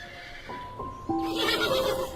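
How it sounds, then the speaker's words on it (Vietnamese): A horse neighs loudly in a shrill whinny with stepped, wavering pitch that breaks and rises, heard alone and close. "Horse."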